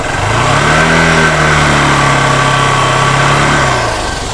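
A Honda Shine SP motorcycle engine, suffering a battery that drains suddenly, is revved and held at a steady high pitch, then eases off near the end. The sound is loud and close, with no talk over it.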